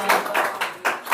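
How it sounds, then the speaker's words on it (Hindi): Students clap their hands in a classroom, about five or six close claps in a loose, even rhythm, with no talk during them. "ताली बजाओ, ताली बजाओ"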